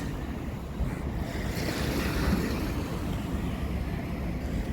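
Sea waves wash steadily onto the shore at sunset, a continuous roar of surf mixed with gusty wind buffeting the microphone, with no voices.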